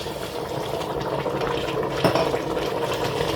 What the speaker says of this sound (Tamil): இந்த டைமில் நல்ல கொதி தண்ணி பாருங்கோ 500 மில்லி தண்ணி நான் விடப்போம்